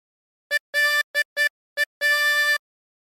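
Six draw notes on hole 4 of a harmonica, short and long reedy tones in an uneven rhythm with brief gaps, the last one held longest, clear and alone.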